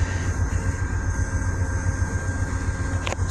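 A CT Rail train idling at a station, a loud steady low engine rumble with a faint high whine, and one brief click near the end.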